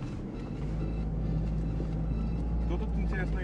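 A Mitsubishi L200 pickup rumbles over a rough, rutted road, its low engine drone and cabin jostling steady and close, with a voice talking over it.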